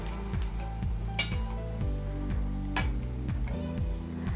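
Adhirasam sweets deep-frying in hot oil, a steady close sizzle with bubbling crackle and a few scrapes of a ladle or spoon against the pan.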